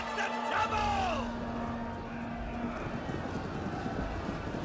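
Horses running in a Rome 2 Total War battle, a dense rumble of hooves with clattering and crashing under battle noise, a brief high whinny or call near the start.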